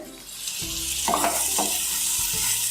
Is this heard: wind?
no